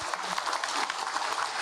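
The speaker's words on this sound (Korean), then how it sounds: "귀한 시간 내주신 최동철 박사님께 다시 한번 큰 박수 보내주시기 바랍니다." A lecture audience of residents and staff claps steadily in a hall, dense even applause throughout, with no talking over it.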